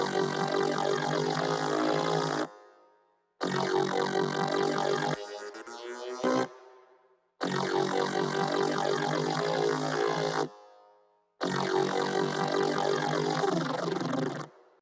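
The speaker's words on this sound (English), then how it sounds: "There we go, that's that synth" Synth bass shaped with a high-pass filter, compression and EQ, heard in a breakdown as sustained buzzy notes in several blocks separated by sharp cuts to silence, loud and steady, with a brief glitchy sweep in the middle.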